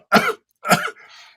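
Two sharp, close coughs in quick succession, followed by a short, softer throat-clearing rasp, all alone against silence.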